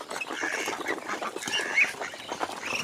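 Large, well-grown ducks call in a rapid cluster of nasal quacks and honks, fairly close and overlapping for a few seconds.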